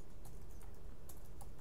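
Keys tapped on a computer keyboard while a webhook rule is being set up, with a few quick, light clicks over a steady background hum in a brief burst.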